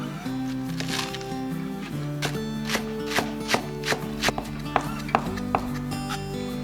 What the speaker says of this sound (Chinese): 准备一些小葱，切去葱白，把葱叶切碎